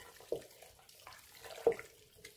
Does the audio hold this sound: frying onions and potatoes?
no